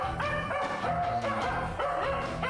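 A stray male dog being rescued by officers barks and yelps in short repeated bursts, close and fairly loud, with a whimpering edge between the barks.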